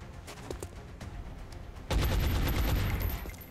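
A gunshot rings out in the turn-based strategy game XCOM Long War, a sudden loud burst that cuts in midway over quieter game ambience and sustains as a dense rumble for over a second.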